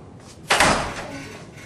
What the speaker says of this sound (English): Let me go shut the door real quick.